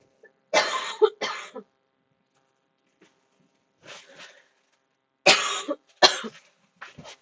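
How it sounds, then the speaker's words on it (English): Several harsh coughs come in quick bursts, a pair, a softer one, then another cluster, close up with quiet gaps between. "I need to cough. I don't want to cough right in your ears."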